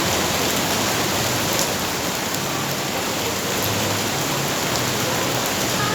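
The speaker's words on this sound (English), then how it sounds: "as you can probably tell, it started raining again" Steady rain pours down outdoors in a dense, continuous hiss that stays loud and even throughout, with no voices over it.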